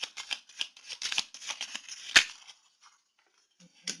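Tarot cards set down on a table one after another make a quick run of soft slaps and papery flicks in bursts, close and light, then a short pause before a final card lands.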